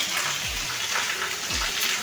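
Steady rain falling outdoors in a village lane during the rainy season, a dense, even hiss of water pouring down, close and constant.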